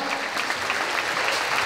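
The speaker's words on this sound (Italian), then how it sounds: "Un grande applauso a questi ragazzi incredibili, incredibili." Audience applause at a Christmas figure skating show on an ice rink, steady dense clapping throughout at a fairly loud, even level, with no talk over it.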